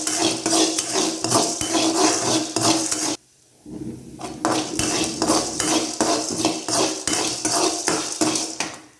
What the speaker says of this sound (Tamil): மிதமான சூட்லேயே வச்சு வறுத்துக்கோங்க